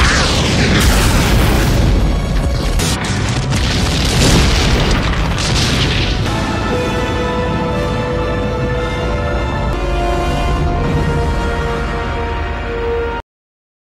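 A loud, sustained explosion roars and rumbles with heavy booming bursts, followed by a long fading rumble with ringing tones before cutting off abruptly.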